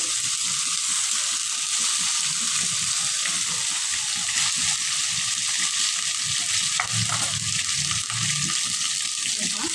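Masala-stuffed brinjals, filled with a green chilli masala, stir-frying in a pan: a steady, close, broadband sizzle and hiss with soft stirring movements, continuous throughout and with no talk.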